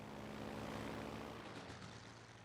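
Aircraft engines droning in the naval battle game World of Warships: Legends, a continuous propeller hum with steady tonal layers, fairly quiet and unbroken, with no voices.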